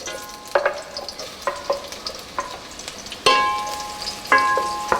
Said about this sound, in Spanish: Y vamos a freír cebolla, es media cebolla mediana.